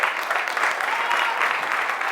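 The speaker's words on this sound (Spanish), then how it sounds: "Un aplauso muy grande para mi compañera Alex Valencia." Audience applause for a tango dancer at an event in Cali, a dense, even roar of clapping that holds steady from start to finish with no talk over it.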